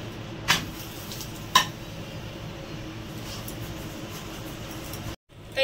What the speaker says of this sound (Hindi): मैं अब तेल लगा रही हूँ इसको।